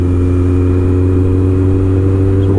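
Supercharged 370hp Kawasaki ZZR1400 motorcycle cruising at 40 mph in third gear around 3,000 rpm, a loud, smooth, steady engine hum with constant low drone.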